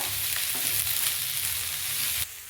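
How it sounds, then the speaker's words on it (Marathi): Onion frying in a little oil in a pan, a steady, close hiss of sizzling that runs throughout and drops off abruptly near the end. "आता कांदा भाजून घेणार आहोत, थोडंसं तेल टाकायचं पॅन मध्ये आधी। कांदा सुद्धा व्यवस्थित गोल्डन ब्राउन करून घ्यायचा।"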